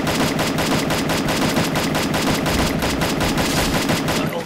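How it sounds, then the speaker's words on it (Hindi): Rapid, sustained automatic gunfire from Free Fire Clash Squad gameplay rattles without pause, loud and dense, with continuous bursts. "ओए किधर गोलियां चला रहे हो?"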